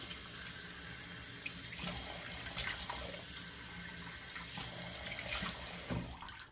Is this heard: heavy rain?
no